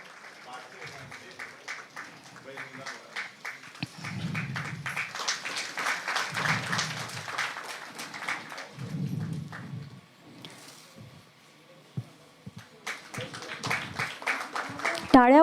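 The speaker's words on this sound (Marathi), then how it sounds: "टाळ्या वाजत राहिला पाहिजे, टाळ्यांचा गजरने सगळं निनादून गेलं पाहिजे सभागृह" A hall audience applauds honorees at a women's commission award ceremony, with rhythmic, sustained clapping that swells and dips alongside a voice talking over it.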